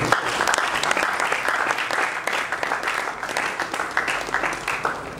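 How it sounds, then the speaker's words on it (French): Audience applause at a press event for an artist, continuous dense clapping from a sizeable crowd, loud and sustained throughout. "Merci d'avoir applaudi pour Morija."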